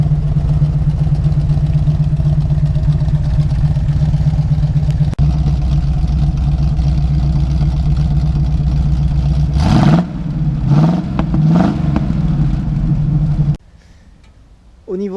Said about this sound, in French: vous trouvez à l'intérieur du véhicule un Big Block 400 Pontiac entièrement d'origine